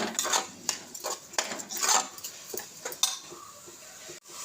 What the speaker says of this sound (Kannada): ಒಂದು ಲೋಟ ಅಕ್ಕಿ ಹಾಕ್ತಾ ಇದ್ದೇನೆ.